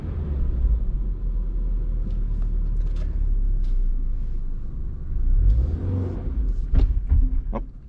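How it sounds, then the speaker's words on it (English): Toyota GR86 engine, 2022 model, idling with a low steady rumble, then a few short throttle blips near the end swell and fall quickly, close and fairly loud. "You just have to give the gas a few little blips to kind of get a feel for how it responds"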